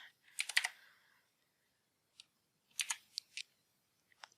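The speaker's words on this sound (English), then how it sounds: "I can just click in that box and I can type in whatever their grade is" Keys on a computer keyboard are tapped to type grades into an online gradebook, coming as a short flurry of clicks, a lone tap, then a few more quick bursts, close by and alone with no talk.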